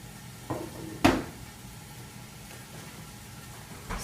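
Sauerbraten simmering in a pot sizzles softly while two tongs flip it, giving a few sharp metallic clanks and scrapes, one louder knock near the middle and another at the end, with no talking.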